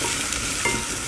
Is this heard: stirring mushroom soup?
yes